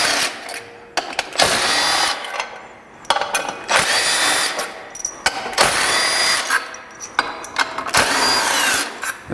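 A power tool with a 3/8 inch socket backs screws out of a non-turbo Polaris RZR, whirring in several loud, close bursts separated by short pauses.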